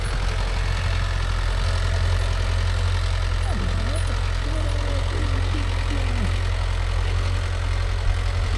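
A Mahindra Yuvo Tech Plus 585 4WD shuttle-gear tractor working with a cultivator keeps up a loud, steady, low diesel drone throughout. A faint voice speaks briefly beneath it.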